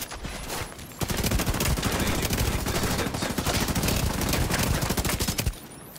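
Rapid automatic gunfire rattles in a sustained, dense burst for several seconds in The Division 2, loud and close, then cuts off abruptly.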